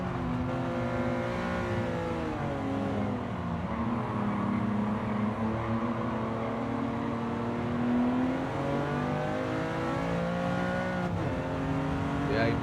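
Alsace Miura P400 prototype race car engine in Gran Turismo 7, a continuous droning roar whose pitch rises and falls through gear changes, loud and sustained with a voice talking over it.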